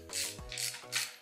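A ratchet wrench clicks in three quick bursts on a frame bolt of a BMW S1000RR motorcycle, close and fairly quiet, with no talk.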